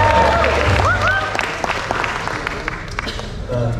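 Wedding guests applaud the best man, a crowd clapping loudly at first and then thinning into scattered claps, with a voice talking over it.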